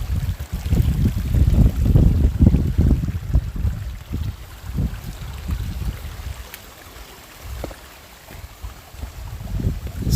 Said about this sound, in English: I'm going to let you stay with the river noises